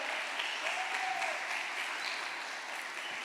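A congregation applauds in a church, with steady continuous clapping that holds at an even level throughout.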